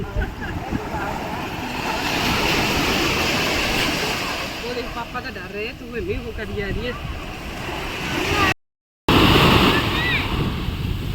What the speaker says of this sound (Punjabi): ਪਾਣੀ ਦੇ ਵਿੱਚੋਂ ਹੀ ਆਵਾਜ਼ਾਂ ਆ ਰਹੀਆਂ ਛੱਲਾਂ ਦੀਆਂ